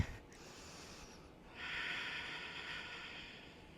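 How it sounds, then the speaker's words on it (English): Slow breathing during a yoga flow session, a faint airy breath with a short sniff at the start, then a longer soft exhale hissing gently in a quiet room. "Breathing."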